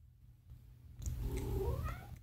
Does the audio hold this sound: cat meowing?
yes